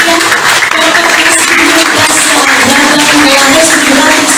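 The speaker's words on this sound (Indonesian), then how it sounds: "Beri tepuk tangan yang meriah." Audience applause at a Perindo party inauguration ceremony in Jakarta, steady dense clapping filling the room throughout, with some background voices mixed in.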